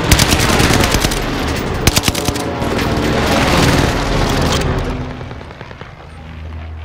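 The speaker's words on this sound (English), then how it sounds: "Mark target for airstrike. This is Phoenix 3. Strike inbound." Airstrike bombing run in a video game: loud rapid bursts of automatic fire and heavy booming explosions rumble close, then the roar fades into a lower rolling aftermath.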